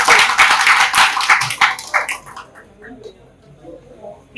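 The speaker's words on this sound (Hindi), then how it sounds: "इमरान खान के लिए जोरदार ताली बजा दो" Outdoor crowd clapping loudly for Imran Khan at a roadside traffic police awareness event, a dense burst of applause lasting about two seconds that quickly dies away to a few scattered claps.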